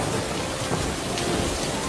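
Heavy rain pours steadily in a dense, loud hiss with a low rumble of thunder underneath, an unbroken storm sound effect with no voices.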